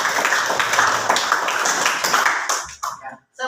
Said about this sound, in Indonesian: sekali lagi tepuk tangan untuk semuanya